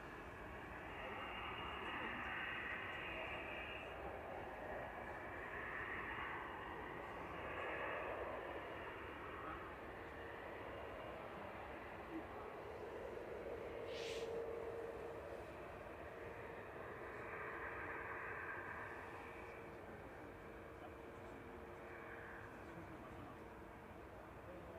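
An EasyJet airliner arriving from Belfast at Manchester Airport rumbles with a distant, low, sustained engine roar, faint and steady beneath ongoing talk.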